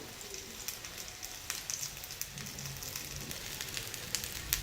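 A taro leaf sandwich roasts in a pan with a soft, steady sizzle and light crackling pops, faint and close, with no talking.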